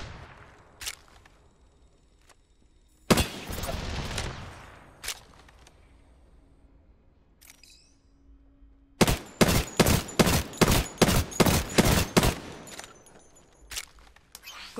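Gunfire in the video game Apex Legends: scattered single shots and a short loud burst early on, then a rapid rhythmic string of about a dozen close shots, with quieter game sounds between.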